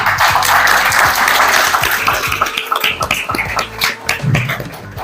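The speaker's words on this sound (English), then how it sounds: "a huge round of applause for us" An audience at an office bearers' event claps after a call for applause, a loud, close burst of hands that thins and becomes patchier toward the end, with a low hum underneath.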